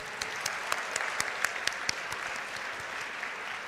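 A large convocation audience of graduates and guests at a university hall applauds, sustained even clapping with a few sharp louder claps standing out, heard from a distance with no talk over it.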